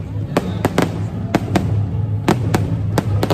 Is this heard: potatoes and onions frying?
no